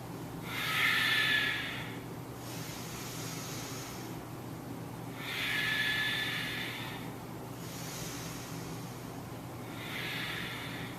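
Forceful yoga breath-of-fire breathing: three loud hissing, rapid exhalation bursts spaced several seconds apart, close-miked over a steady background hum, no talking.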